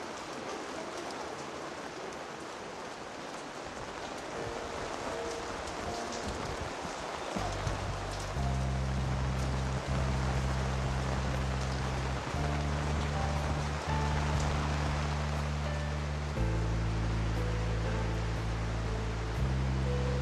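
Heavy night downpour pouring onto a city promenade, a dense continuous hiss of rain that holds steady throughout, with a low droning hum joining partway through.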